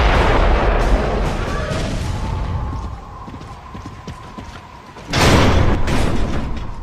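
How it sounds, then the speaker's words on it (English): Mortar artillery fire in the Gears of War: Judgment game, heavy booming blasts and rumbling impacts, loud and close, with a sharp burst after a quieter stretch, amid battle noise. "Mortars! The grubs are gonna flatten that house if we don't stop them."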